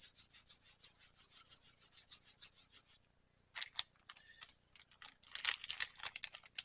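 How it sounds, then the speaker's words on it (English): Jeweler's rouge is rubbed onto a leather stropping tool in quiet, rhythmic scratchy strokes that pause briefly, then resume in quicker, denser passes. "I'll go ahead and take my jeweler's rouge and hit my stropping tool"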